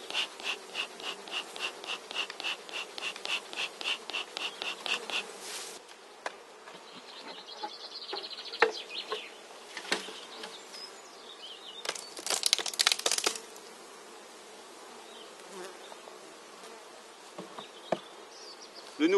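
Honey bees buzz in a steady, faint hum while a small nucleus hive is transferred into a full hive after being smoked, with rhythmic rustling, crinkling and knocks from handling the frames and boxes.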